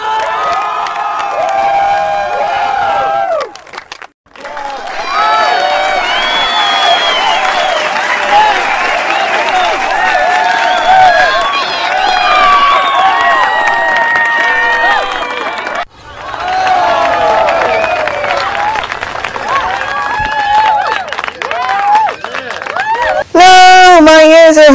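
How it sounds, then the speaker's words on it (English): Studio audience cheering sound effects from game and sitcom shows: a loud crowd roars, applauds and shouts continuously, broken by two short gaps where one effect gives way to the next, ending in a sharp burst. "I will play the Sasuke Ninja Warriors Studio Audience Cheering Sound Effect, the Friends Cheering Sound Effect, and the Cat Empire Studio Audience Cheering Sound Effect."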